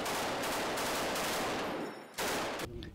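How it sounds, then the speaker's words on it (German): Dense, sustained rifle fire during the army offensive in Mosul crackles without letup, pauses briefly, then bursts back in loud and close. "Anhaltendes Gewehrfeuer ist zu hören und das Echo von heftigen Explosionen."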